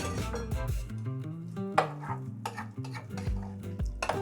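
Yeast batter for calas, the old New Orleans breakfast fritter, being mixed in a bowl: a spoon scrapes and clinks against the sides in quick, uneven strokes, close and fairly loud, with no talking.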